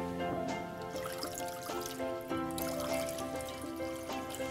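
Water is poured into a pot in a television cooking-show kitchen while making a spiced tea, a steady trickling pour set over a continuous tonal background hum.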